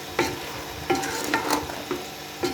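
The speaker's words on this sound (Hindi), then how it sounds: "इन सारी चीज़ों को अच्छी तरह भून लेते हैं।" Meat coated in powdered spices is stirred and fried in a pan, a close sizzle broken by about five rhythmic scraping strokes of the spoon, with no voices.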